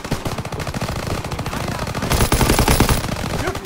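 Rapid, dense automatic gunfire from a Call of Duty WW2 trench battle fills the whole stretch loudly, with overlapping bursts and no pause.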